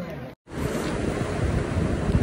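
Steady sea surf washes on the shore near Busan in a continuous roar, briefly cut off near the start, with wind noise over it.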